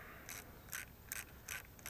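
A ratchet loosens bolts on a Briggs Intek carburetor, giving short, faint clicking bursts that repeat in a regular rhythm of about two per second.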